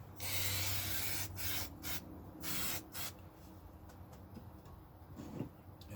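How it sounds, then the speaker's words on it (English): Several short hissing bursts from a spray can of glue accelerator during a Les Paul guitar build, close by, the first long and the rest quick puffs, followed by faint handling noise. "spray on here some accelerator."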